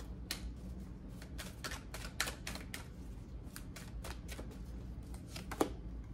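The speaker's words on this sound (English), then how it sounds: "I'm going to shuffle these." Tarot cards are shuffled in repeated quick riffling bursts, crisp papery clicks and flutters, against a low steady background hum.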